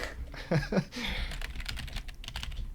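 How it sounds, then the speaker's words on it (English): Typing on a computer keyboard, a quick run of close, soft clicking keystrokes in irregular bursts, with faint speech in the background. "Typing it in right now."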